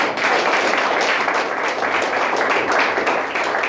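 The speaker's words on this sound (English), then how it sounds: "Give me a hand clap" A congregation claps hands together during a church service, a steady, dense wash of applause held at an even level throughout with no voices standing out.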